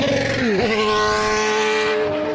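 A 1980s-90s Formula 1 single-seater races past at the Grand Prix de l'Âge d'Or 2022, a loud, close, high-pitched engine scream whose pitch drops sharply as it passes, then fades down the track.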